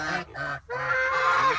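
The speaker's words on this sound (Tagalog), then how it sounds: "Yan ang aking mga gansa." Farm geese honking loudly and close by, a few overlapping nasal calls in quick succession with no talking.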